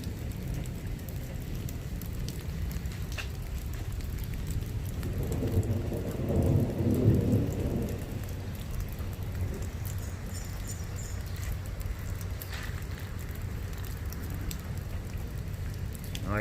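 Steady rain pours down during a warm tropical storm, a constant hiss with a low rumble swelling briefly partway through, recorded without talking.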